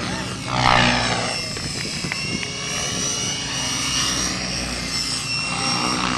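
A brand-new X-Cell Fury Ion electric radio-controlled model helicopter flies at a 2003 demonstration, its rotor and motor making a continuous whine that rises and falls in pitch as it manoeuvres, fairly loud and steady throughout.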